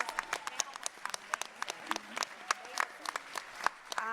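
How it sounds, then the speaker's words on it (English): Scattered applause from a conference audience after a panel discussion, with sparse individual claps in an uneven rhythm and a few voices speaking over them. "Please clap it up for the panel."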